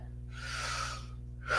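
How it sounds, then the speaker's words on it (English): A single deep inhalation during a Wim Hof style breathwork exercise within a yin yoga session, a long airy breath swelling and fading over about a second, close and fairly quiet, with a second breath starting at the end. "So let's take some deep breaths here."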